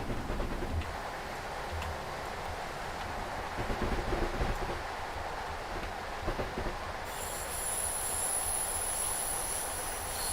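In a Train Simulator session on the East Coast Main Line south, a train passes with a steady rolling rumble and squealing wheels. A thin, high whine joins toward the end.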